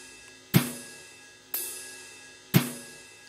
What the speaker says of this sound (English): I used the brush snare, which sounds like this. And on every second snare, I also added a short snap sound